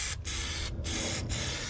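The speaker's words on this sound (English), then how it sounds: "It's actually a black rubber coating on here. And we'll go ahead and spray this on." Black rubber coating sprays from an aerosol can onto the wheels of a 1/32-scale Revell GMC Bison semi tractor model, a steady close hiss broken by three brief pauses between bursts.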